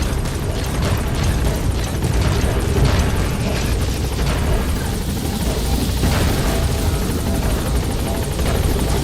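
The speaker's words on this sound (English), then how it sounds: "Support helicopter has arrived." A support helicopter arrives in the Metal Gear Solid V video game, its rotor thumping as a steady, loud, close roar that stays constant throughout without any speech.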